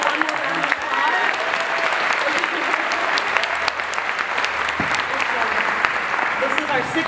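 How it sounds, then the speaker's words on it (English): Sustained audience applause fills a theater screening in Los Angeles, a dense wash of many hands clapping at a steady level with a voice faintly underneath. "one more round of applause"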